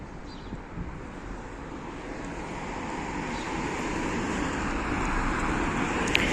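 Cars passing along a German town street, a continuous low rumble of traffic that slowly swells louder toward the end, with some wind buffeting the microphone and no talking.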